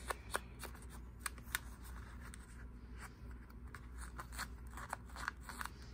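Watercolor paper edges are roughened with a fingernail or the edge of scissors, producing quiet, close, irregular scratchy scraping strokes with small crisp ticks, faint and alone.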